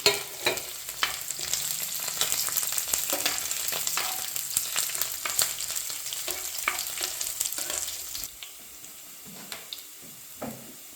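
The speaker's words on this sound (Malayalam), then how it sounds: "കുറച്ച് കറിവേപ്പില ഇട്ട് കൊടുക്കാം" Curry leaves crackle and sizzle in hot oil in a pan while making gooseberry pickle. A spoon stirs through them with irregular scraping clicks, and the frying fades toward the end.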